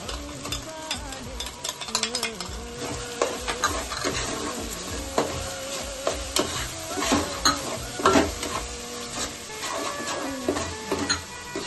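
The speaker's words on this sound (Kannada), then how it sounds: "ಇದು ಸ್ವಲ್ಪ ಚೆನ್ನಾಗಿ ಫ್ರೈ ಆಗಬೇಕು" Onion paste frying in hot oil with garlic in a pan for chicken biryani, a steady close sizzle with repeated scraping and stirring clatter throughout, no one talking.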